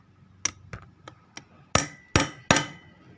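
A hand snap button setting tool struck with a hammer without a base plate: several sharp metallic taps, a few light ones followed by three heavier, louder blows spaced evenly, close up with no talk.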